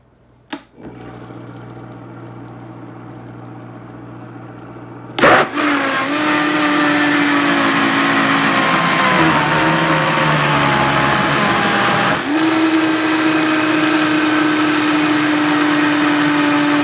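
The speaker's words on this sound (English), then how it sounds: "Okay, so we're going to turn on our blender." A blender whirs loudly as it mixes tofu ricotta with spinach and kale, starting after a quiet pause with a sharp click, then running steadily with a shift in pitch partway through as the contents break down.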